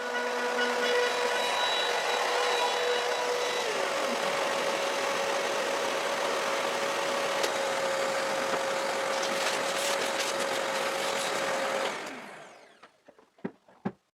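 A router mills a cutout in plywood, running steadily and loudly with a constant whine for about twelve seconds, then spins down, followed by a few light knocks.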